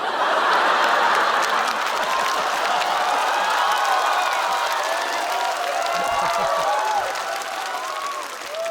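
A stand-up comedy audience breaks into loud applause mixed with laughter and cheering, a dense crowd roar that swells at first and then gradually tapers off.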